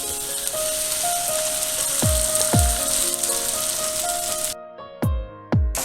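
Washed broken wheat hisses and crackles in a hot pan, a dense continuous sizzle punctuated by a few sharp scraping stirs, loud and close with no talking.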